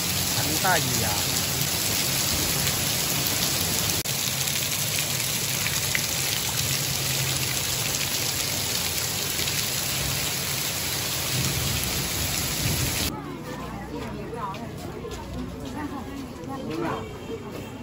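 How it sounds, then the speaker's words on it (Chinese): Heavy rain falls on a Friday afternoon, loud and constant, with thunder rumbling under the downpour before the hiss drops off sharply toward the end. "哎呦，这个雨呀、啊，下得太大了。"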